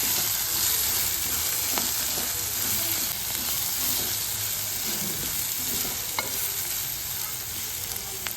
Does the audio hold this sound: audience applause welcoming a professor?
no